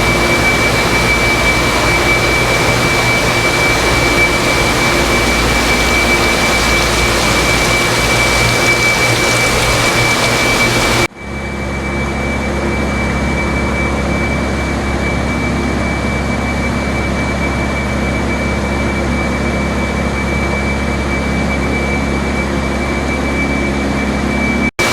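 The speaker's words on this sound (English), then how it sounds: "each rack has its own blower for the air." Air blowers mounted atop racks in a tropical warehouse give a steady, loud broadband whoosh with a constant hum; partway through the level drops sharply and a quieter, lower roar continues alone.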